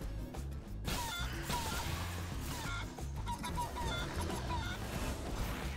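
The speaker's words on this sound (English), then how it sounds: "Chicken!" A cartoon chicken clucks in the video game Guacamelee 2, small clucks scattered through busy, loud game music and effects.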